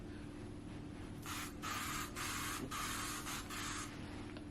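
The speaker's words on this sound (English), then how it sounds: "I'm just gonna spray it on right here in the front." Pat McGrath Setting Glass spray misted onto a face in several close, hissing bursts of a second or less, separated by brief pauses, with quiet room tone before and after.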